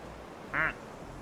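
A single short quack from a plastic duck in Placid Plastic Duck Simulator sounds over low background noise.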